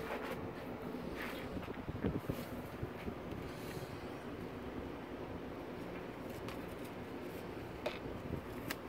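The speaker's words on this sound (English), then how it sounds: "Kind of windy out, ain't it?" Steady wind buffets the microphone in a continuous low rumble and roar, with occasional louder gusts and no speech.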